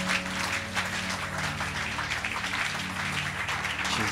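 A church congregation applauds during a Sunday worship service, a steady dense clatter of many hands sustained throughout, with a low musical hum underneath.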